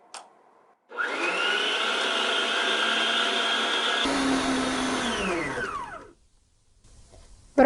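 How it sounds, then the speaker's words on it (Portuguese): An electric stand mixer beats cake batter flavored with vanilla essence, a steady whirring motor drone that starts abruptly, runs for several seconds with a slight change in pitch midway, then winds down to quiet. "vamos levá-lo à batedeira e deixar por 10 minutos"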